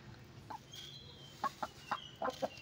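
Roosters and hens at a poultry farm cluck in short, scattered bursts, a few quiet calls early and then a quicker cluster of clucks, fairly faint against a low background hum.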